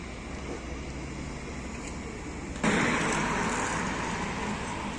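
A heavily loaded truck carrying around 20 tons of iron, its brakes failed, rolls downhill with a steady broadband road and engine roar that jumps louder midway and stays loud, with no talk over it.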